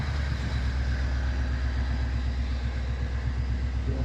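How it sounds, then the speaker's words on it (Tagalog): A 2016 Ford Mustang Mach 1 engine idles steadily and close by. A deep, even rumble with a regular low pulse runs throughout, with no voices over it. "Pakinggan nyo yung tunog ng makina niya."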